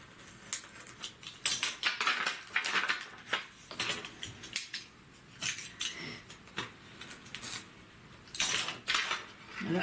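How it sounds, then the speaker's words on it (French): Knife slicing through scrapbooking paper, a close sequence of scratchy scraping and rasping strokes with small clicks, uneven and fairly quiet, continuing in bursts throughout. "Prendre un bon couteau qui va bien couper. Alors, je coupe ici."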